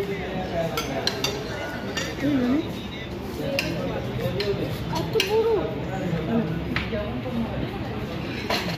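Plates and cutlery clink at a hotel dinner table as a group eats, light scattered taps and scrapes of spoons on dishes under steady lively conversation.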